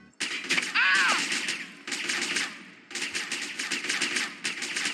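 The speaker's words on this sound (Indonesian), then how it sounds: "Ini tembakannya mengerikan gini. Tembakan mereka." Gunfire in the video game GTA San Andreas crackles in dense rapid bursts, loud and continuous with brief pauses between volleys, and a short rising electronic whine near the start.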